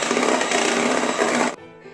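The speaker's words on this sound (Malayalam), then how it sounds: "അപ്പോൾ അത് ചേർത്തിട്ട് നമുക്ക് ഒന്നും കൂടി ബീറ്റ് ചെയ്തെടുക്കാം" Electric mixer beating cake batter after oil is added, a loud close steady whir that cuts off sharply near the end, leaving quieter background.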